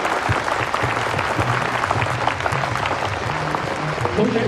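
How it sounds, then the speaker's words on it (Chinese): Sustained applause from an award ceremony audience, dense clapping that holds steady throughout, with some crowd murmur and a voice faintly audible underneath. "让我们响起一次掌声"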